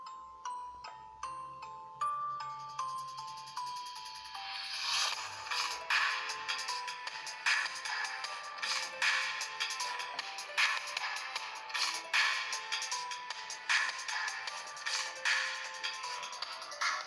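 Music plays through the small built-in speaker of a Doogee Voyager 2 DG310 phone: a tinny, bright tune that opens with stepped chime notes and moves into a rhythmic electronic beat with sharp repeating hits.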